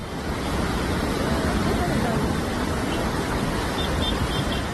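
Floodwater of the Sabarmati river in Ahmedabad rushes in a dense, unbroken roar, loud and steady from start to finish with a windy rumble mixed in.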